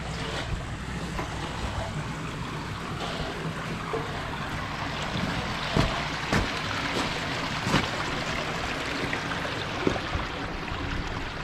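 Water flowing through a newly installed backyard pond and stream feature, a steady broad rushing wash with occasional small splashes and knocks, continuous and close.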